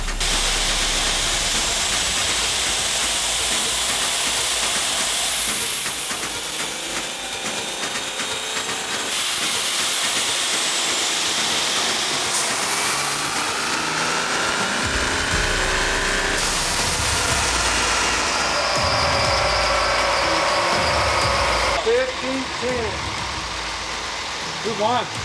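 A diesel tow truck making about 1500 horsepower on a dyno, its engine roaring at full power with loud hiss and whine, rising through pulls and then dropping off, with steam-like blasts and some voices.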